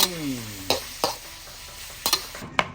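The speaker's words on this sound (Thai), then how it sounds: "นำหนังกับเครื่องในมาทอดเลยครับนี่" Chicken skin and giblets fry in hot oil, a crackling sizzle with several sharp spatula taps and scrapes spaced across a few seconds, no voices.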